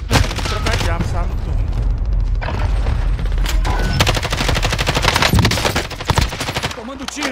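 Loud, rapid automatic gunfire fills a Call of Duty Warzone match, with bursts of machine-gun fire and a few heavier booms layered over one another, close and continuous, with brief moments of voice mixed in.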